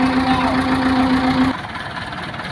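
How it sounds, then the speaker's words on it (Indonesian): A tractor engine running while being driven on a muddy road, a close, steady mid-pitched rumble with a humming whine that cuts off abruptly partway through, leaving a quieter idle. "Piye to, malah rasa mundur traktor iki."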